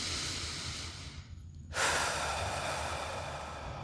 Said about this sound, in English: And I want you to breathe in this position.